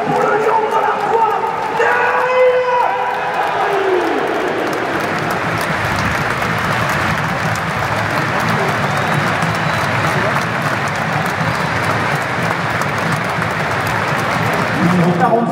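At Stade Bollaert, a stadium crowd applauds before an RC Lens match against AS Roma, a loud, sustained roar of clapping and cheering that fills the whole stretch. An announcer's voice over the PA is heard at the start.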